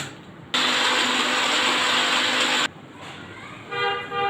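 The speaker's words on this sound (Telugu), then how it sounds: "ముందుగా నానబెట్టిన అలసందలను అయితే మిక్సీ పట్టాలన్నమాట" A mixer grinder churns soaked black-eyed peas in one loud, close, steady whir of about two seconds that cuts off abruptly, followed by quieter room sound and a faint tone.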